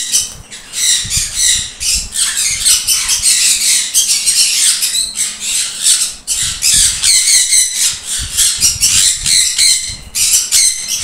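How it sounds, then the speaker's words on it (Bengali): A sun conure and a pair of sun cheek conures squawk loudly and almost without pause, sharp close-up shrieks overlapping in a continuous noisy chorus with no talking. "এক পিস সানকুনুর, এটা ফুল অ্যাডাল্ট, এর ওপরে আছে এক পেয়ার সানচিক কুনুর,"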